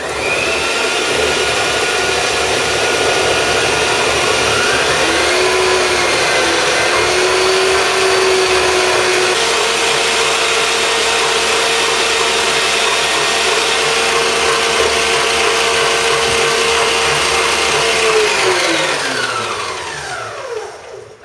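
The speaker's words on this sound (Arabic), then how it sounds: "الآن نخفق صفار البيض حتى يضاعف حجمه" An electric hand mixer whisks egg yolks for a genoise sponge, with a steady, loud, continuous motor whine that shifts pitch slightly partway through before winding down at the end.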